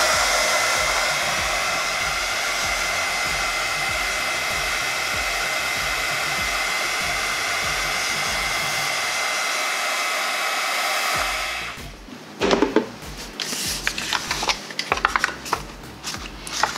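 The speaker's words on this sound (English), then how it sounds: "if you're like me and you want to dry it with your heat tool" A heat tool blows steadily and loudly, drying ink from Tombow dual brush markers, then cuts off after about eleven seconds, leaving light handling clatter and taps.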